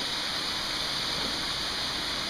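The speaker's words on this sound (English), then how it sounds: "I definitely hear a waterfall." A waterfall heard from a bridge in a state park, a steady broadband rush of falling water that stays even and continuous, with no voices.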